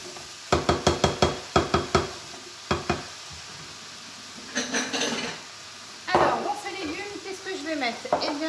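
Brunoise-cut vegetables for a soup being sautéed in olive oil, opening with a quick run of sharp clacks and taps, then bursts of sizzling and stirring that swell louder near the end.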